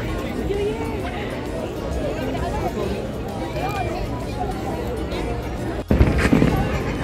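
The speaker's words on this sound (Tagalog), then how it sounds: "Ayan po yung fireworks." New Year fireworks pop and crackle outdoors in Bahrain amid a dense crowd's chatter and cheering, with a louder burst of bangs near the end and people talking throughout.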